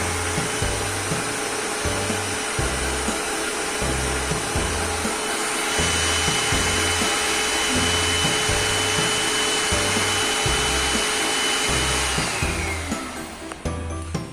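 A 5035 Pro S Servo flatbed cutting machine with its vacuum running, a loud, steady whirring motor drone with rhythmic pulsing underneath, ending as the sound winds down near the end, with no talking.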